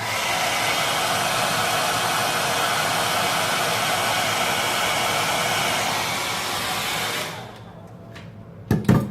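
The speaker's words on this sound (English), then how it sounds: "I'm going to dry this spot with a hairdryer." A hairdryer blows steadily up close, drying a cranberry juice sample spot on paper for chromatography: a constant loud whooshing hum that switches off near the end, followed by a few handling knocks.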